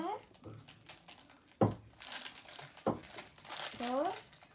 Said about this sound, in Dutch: ik ga ook de sleutelhanger eventjes uit de verpakking halen